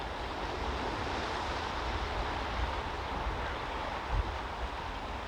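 Calm sea waves at the shore, a steady, dense wash of surf with a soft breaking swell near the end, heard alone with no voices.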